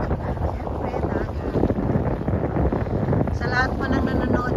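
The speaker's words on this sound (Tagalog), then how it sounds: "Mahangin siya." Wind at the seaside beach of Porteau Cove buffets the microphone in a steady, loud rumble that lasts throughout, with a faint higher sound near the end.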